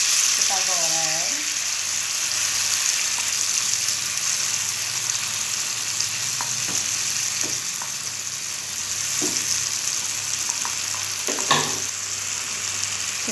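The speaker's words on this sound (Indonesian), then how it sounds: "Kita goreng." Hot oil fries ingredients for plecing gonde with a loud, steady sizzle that holds for the whole stretch, and a few clinks and scrapes of a utensil stirring the pan.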